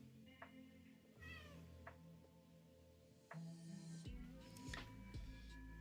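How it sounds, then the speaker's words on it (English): A small cat gives a string of short, squeaky high-pitched meows, close and fairly quiet, spaced irregularly over a soft indoor background. "Squeaky kitty, yeah, she's a squeaker."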